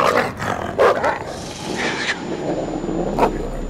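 Wolf barking in the horror video game Until Dawn, a few sharp, loud barks and growls spread across a few seconds over a dark game ambience.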